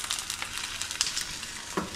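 Eggs fry steadily in a hot pan at home, a continuous close crackling sizzle with brief spitting pops throughout, no talk over it.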